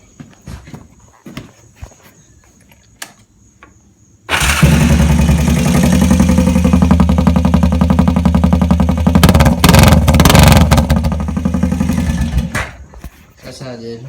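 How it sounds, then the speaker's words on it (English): Engine with the exhaust baffle removed, leaving an open straight pipe, bursts into a loud, sustained rough roar after a few quiet seconds of small clicks, held for about eight seconds with raspy rev swells before dropping back. "Let me rev it up some."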